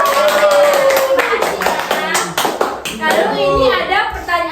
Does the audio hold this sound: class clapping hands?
yes